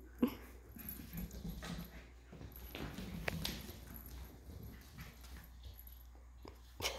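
Puppy whimpering and yipping faintly amid scuffling, thumping movement and clattering noises, fairly quiet and close, with no speech.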